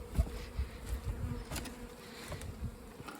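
Honey bees buzz around their hive in a soft, continuous drone. A few individual bees fly close past, and the sound stays faint overall.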